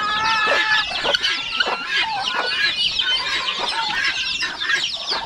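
A flock of chickens in a farmyard clucks and squawks densely, many birds overlapping in a busy, fairly loud chorus with no pause and no voices.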